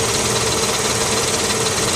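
A car engine running at idle while a diagnostic tool is connected, a steady, even rumble with constant loudness and no talking.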